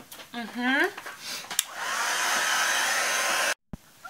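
A hair dryer blows onto a watercolor galaxy painting, switching on with a rising whine and then roaring steadily at close range before cutting off abruptly, preceded by a short vocal sound.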